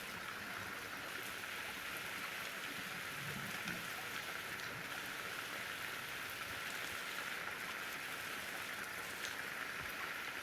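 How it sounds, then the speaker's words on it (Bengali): Rain from a thunderstorm falls in a steady, even hiss on nearby surfaces, continuous and moderately faint, with no thunder claps or voices. "এই দেখো বৃষ্টি দেখো"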